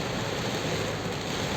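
Torrential typhoon rain falls in a constant, loud wash of noise that holds steady throughout, with no talking.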